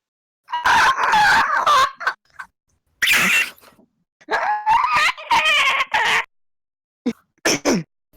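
A voice imitates a dinosaur screech, with several harsh, shrill squawking bursts separated by short silences, loud and close.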